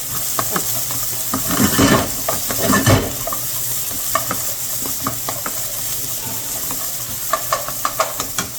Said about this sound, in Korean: 볶아서 이러면 아까 양파에 있는 단맛이 같이 합쳐서 볶았습니다